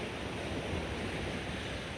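Ocean waves at Drake Bay, Costa Rica, a soft, steady wash of surf that stays low and even, mixed with a little wind, with no voices.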